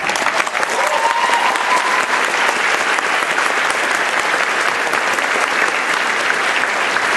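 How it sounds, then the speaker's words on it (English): A large commencement ceremony crowd applauds its faculty in a loud, sustained, even wash of clapping that fills the hall without a break. "I ask you to demonstrate your appreciation by applauding our faculty."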